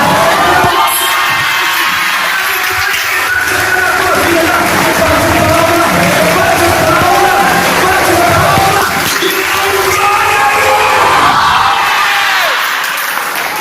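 A church congregation at a Brazilian evangelical retreat applauds and cheers, a loud, sustained crowd roar of clapping, shouts and yells that fills the whole stretch with little letup.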